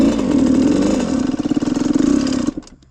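A 1995 Suzuki RM125 two-stroke motorcycle engine runs loud and close, holding a steady buzzing drone before a pulsing stretch of revs that cuts off abruptly near the end.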